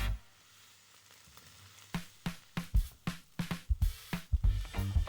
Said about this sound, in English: Keep cooking and stir often so they caramelize evenly without burning.